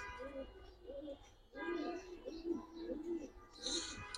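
Giribaz pigeons coo nearby in soft, repeated low-pitched phrases with short pauses, the calls running back to back indoors.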